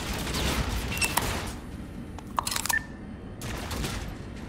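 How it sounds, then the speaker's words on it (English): Gunfire in the Call of Duty Infinite Warfare video game comes in rapid bursts and single sharp cracks over a dense battle background, with a lull midway before the firing resumes. "While I'm still getting shot at."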